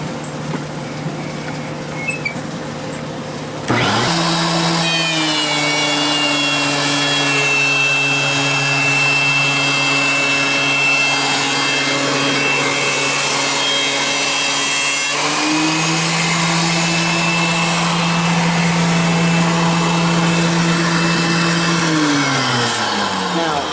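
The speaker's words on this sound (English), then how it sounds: "I'm going to show you how this planer with the shelix cutter is really" A DeWalt DW735 13-inch thickness planer fitted with a Shelix spiral cutter starts up after a few quiet seconds and runs as a loud, steady motor whine. Its pitch dips and shifts as boards feed through, and nobody talks.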